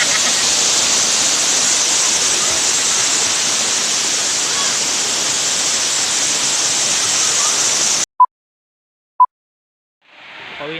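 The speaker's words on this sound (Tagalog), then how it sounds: "Kita mo yung falls dyan." Ansiong Falls waterfall in Camarines Norte roars as a loud, steady wash of falling water for about eight seconds, then cuts off abruptly, followed by two short tones and a brief return of noise.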